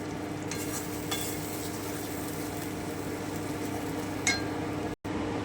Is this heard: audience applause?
no